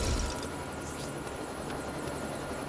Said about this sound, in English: You can fly a helicopter?